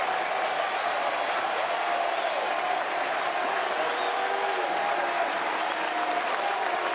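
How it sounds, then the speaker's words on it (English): A baseball crowd at a college game in Chapel Hill cheers and applauds on its feet, a dense, continuous wash of clapping and yelling held at an even level throughout. "Crowd to its feet at the Bosch in Chapel Hill yet again."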